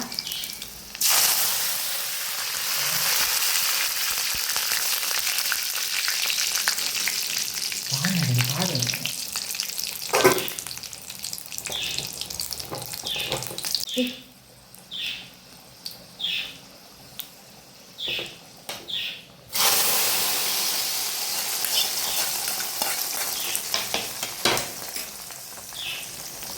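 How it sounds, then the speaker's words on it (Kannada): Curry leaves and garlic in hot oil as tempering for a Mangalore-style lady's finger dish give a loud steady sizzle with stirring, fading briefly into sparse crackles midway before surging back to full frying. "ನೋಡಿ ಒಗ್ಗರಣೆ ಹಾಕಿದ್ದೇನೆ"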